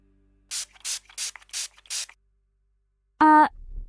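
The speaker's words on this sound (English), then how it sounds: "What are you doing with that spray bottle?" Five quick, evenly spaced spritzes from a spray bottle, followed after a pause by a short electronic beep.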